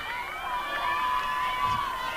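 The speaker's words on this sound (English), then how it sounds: "Loud crowd developing here late in the 4th quarter" A loud crowd at a late fourth-quarter NCAA women's lacrosse game between Canisius and Marist cheers and shouts in a steady, sustained roar, with voices mixed into the din.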